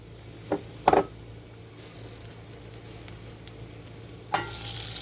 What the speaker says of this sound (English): The next step we're going to do is we're going to add our beans.